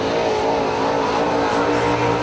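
A late model race car engine roars steadily through a speedway qualifying lap at a dirt track, loud and continuous, with sustained engine drone and no audible talk.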